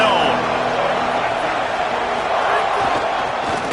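Roaring stadium crowd at a college football game between Iowa and Nebraska in a video game, a thick, steady wall of cheering and noise filling the whole stretch, loud and sustained.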